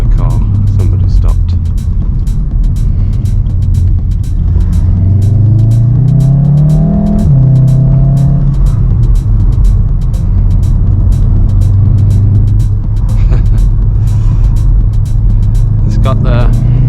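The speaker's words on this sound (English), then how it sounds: "Got the racing line intake. I've opened the window a bit. See if you can get a sound of that. Standard exhausts." A VW Golf R MK7.5 with a Racingline intake and standard exhausts, heard from inside the car with a window slightly open; a steady engine drone climbs through a rising rev before settling back to a constant cruise.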